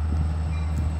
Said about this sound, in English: Here it comes, guys. First train of the day.